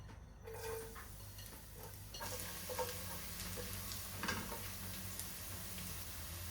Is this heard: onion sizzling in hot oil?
yes